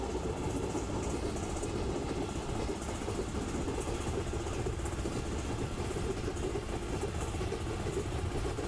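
Steady rumbling rail noise of trains passing through a station in an Indian Railways simulator game, a continuous wash of wheel and engine sound with no clear breaks and no voices.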